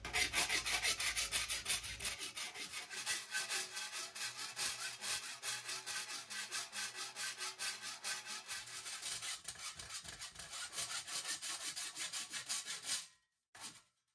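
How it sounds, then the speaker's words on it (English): A hand file works the sharp, tin-snip-cut edges of homemade copper head gaskets for a Kawasaki Z1 Super Six, giving fast, evenly repeated rasping strokes, close and loud, before stopping abruptly near the end. "clean them up a little bit with a file, just to take off all the sharp edges from using the tin snips"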